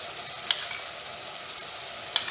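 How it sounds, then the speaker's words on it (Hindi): Prawns frying in masala in a pan, a steady soft sizzle throughout with a couple of faint clicks, fairly quiet and close, no voices. "जो हमारे प्रॉन्स है वो बहुत ही अच्छे से मसाले में फ्राई हो रहे हैं।"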